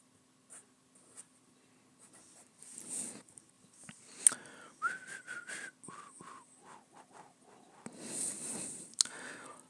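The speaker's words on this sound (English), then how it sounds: "I found that it helps to whistle while you draw." Someone whistles a wandering, breathy tune of short tonal notes while a pen or brush scratches and swishes across paper during drawing, the strokes irregular and close.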